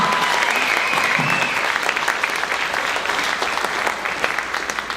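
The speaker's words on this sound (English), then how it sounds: "how about another round of applause for this band?" A concert audience applauds a high school jazz band with dense, steady clapping throughout, loud and close, with a few faint voices mixed in.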